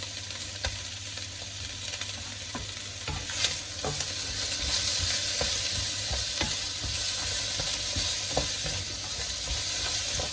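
Carrot and sugar snap peas stir-fried for noodles make a continuous close sizzle, broken by repeated scraping and clicking as the vegetables are kept moving around the pan.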